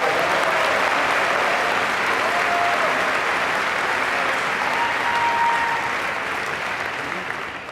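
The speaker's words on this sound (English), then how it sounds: "Please join me in another round of applause." Sustained audience applause fills a graduation ceremony hall at a business school diploma event, dense and steady throughout before easing slightly toward the end, with no voices on top.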